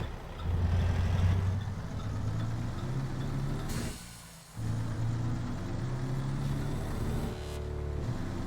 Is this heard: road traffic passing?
yes